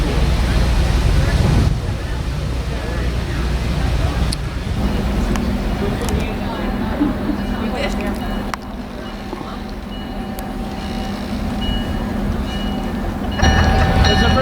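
White Mountains Notch excursion train with two engines rumbles steadily alongside, a constant low mechanical drone with clanking under people chatting nearby.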